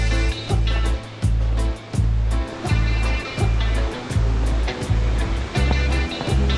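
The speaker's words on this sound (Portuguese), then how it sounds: "Essa aqui é a primeira, a Cachoeira da Laje." A forest waterfall, Cachoeira da Laje, on a hot-day trail in Ilhabela, pours in a steady broadband roar, with rhythmic surges and splashes rising and falling close by and no voices.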